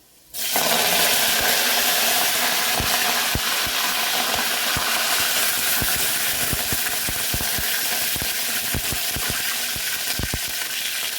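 Asafoetida and curry leaves hit hot oil for kadhi with a sudden loud, steady sizzle and hiss, close up, dotted with sharp crackles and pops throughout.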